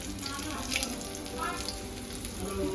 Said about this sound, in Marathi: चला तर मंडळी झणझणीत सुरमई फ्राय करता आहे